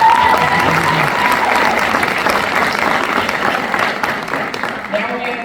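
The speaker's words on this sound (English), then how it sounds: "Give this man a round of applause" Audience applause after a guest is introduced at an event, steady dense clapping running the full length at moderate loudness, tapering slightly near the end with a faint voice coming in.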